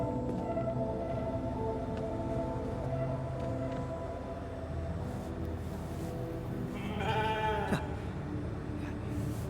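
A sheep bleats in The Alters video game: a short, fairly close bleat late in the moment, rising over a steady bed of game music and ambience, with no talking.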